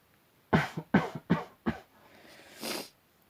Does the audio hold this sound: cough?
yes